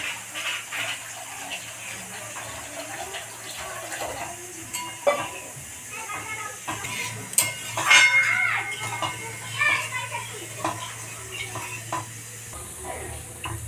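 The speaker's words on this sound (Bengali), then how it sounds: "এবার আমি পরিমাণ মতো জল দেবো" Water goes into a pot of fried spice paste for a Bengali katla fish curry, a splashing and bubbling hiss with light stirring clinks, close and moderate, continuing throughout.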